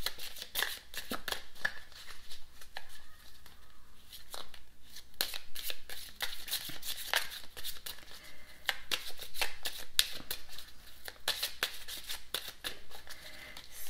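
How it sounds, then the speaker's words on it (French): A slippery deck of cards being shuffled again and again, soft riffles and rapid flicking slides in uneven bursts, fairly close and quiet, without speech. "C'est un jeu de cartes qui glisse"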